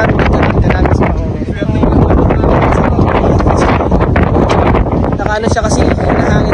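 Strong wind buffets the microphone on the summit of Mount Talamitam, a loud, continuous roaring rush with gusty swells and rustling.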